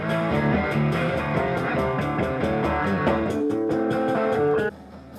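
Live band music from a blues musician at an outdoor crawfish boil and bayou-style cookout at Wakulla Springs, steady and full with rhythmic beats, dropping off near the end.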